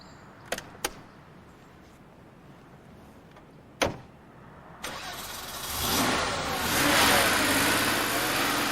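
A Porsche 911 Turbo with a 3.6-litre turbocharged engine is started after a few clicks and a thump, cranking and catching, then settling into a loud, steady rumbling idle close by.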